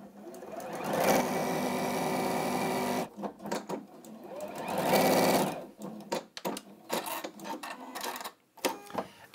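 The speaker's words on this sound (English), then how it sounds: "You just fold those to the edge there and you sew to the end." Elna sewing machine stitching fabric to the end of a seam for a Liberty quilt project: two sustained bursts of rapid needle running, each about two seconds, separated by quieter handling clicks and fabric rustle.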